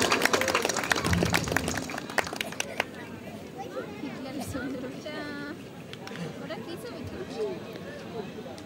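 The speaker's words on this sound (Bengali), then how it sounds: "বিএম কলেজ ডিবেটিং ক্লাবের জন্য একটি জোরে করতালি হয়ে যাক।" Applause for the BM College Debating Club at a Bangladeshi college event: a brief burst of crowd clapping that fades into a murmuring, chattering audience with a few raised voices.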